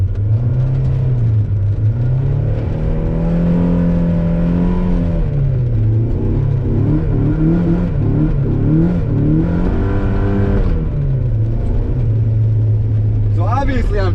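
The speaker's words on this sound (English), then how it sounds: "So obviously I'm trying to make the wheels spin here, but I do have a pretty good amount of traction" A Mazda MX-5 Miata revs hard on a winter road as the driver tries to spin its wheels, the engine note droning loud and close, rising and falling repeatedly, with some talk over it.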